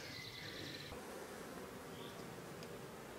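Honeybees buzzing around an open beehive, a dense, continuous drone of many wings close by, with one bee's whine passing briefly louder and a faint background hum.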